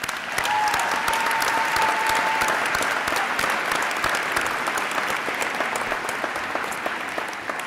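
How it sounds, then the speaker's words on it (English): Sustained audience applause at a Durham College fall convocation ceremony, dense and steady from a large crowd for the campus pipes and drums band, with a faint whistle-like tone near the start. "Ladies and gentlemen, please give them a round of applause."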